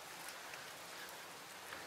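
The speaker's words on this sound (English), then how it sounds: "The rain is starting to fall from the northwest" Rain starting to fall during a desert monsoon thunderstorm in Tucson, Arizona, heard as a faint, even hiss of drops on surfaces, continuous and without talk.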